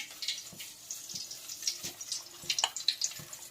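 Chilli bajji frying in hot oil, with a steady crackling sizzle and scattered sharp pops and spits, close and moderately quiet throughout.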